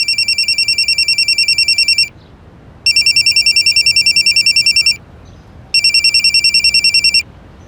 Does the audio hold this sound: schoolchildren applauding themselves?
no